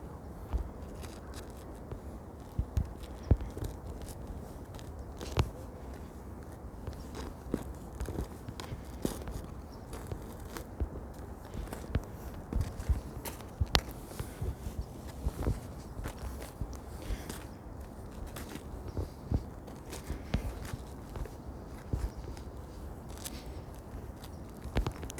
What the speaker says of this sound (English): I like the ice sounds.